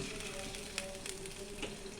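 Taro pieces fry in a covered pan over low gas flame, a soft, steady sizzle with occasional faint crackles and pops, quiet and close.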